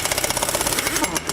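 A pneumatic air impact gun runs in reverse to loosen a nut, giving a rapid, steady hammering rattle that lasts just over a second, close and fairly loud.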